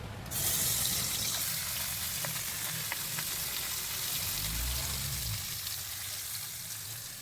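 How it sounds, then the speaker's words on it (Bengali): Salted fish rubbed with turmeric drops into hot oil in a wok. A loud hissing sizzle bursts in almost at once, then settles into a steady, crackling fry that carries on to the end. "এখন মাছগুলো ছেড়ে দেবো।"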